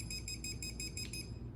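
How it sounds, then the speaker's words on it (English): An IPETS 618 dog training collar sounds a fast series of about seven short, evenly spaced high-pitched beeps, quiet and alone. "You heard it beep, the light flashed green on there."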